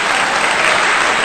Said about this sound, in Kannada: ಆ ಕ್ಯೂಟ್ ಮಕ್ಕಳು, ಆ ಕ್ಯೂಟ್ ಪರ್ಫಾರ್ಮೆನ್ಸ್ಗೆ ಒಂದು ಜೋರಾದ ಚಪ್ಪಾಳೆ ಬರಲಪ್ಪ ಪ್ಲೀಸ್